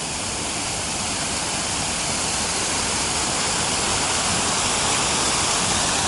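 Cold, clear mountain water flows in a steady, dense rush, close and continuous like a small waterfall or fast stream, with no voices heard.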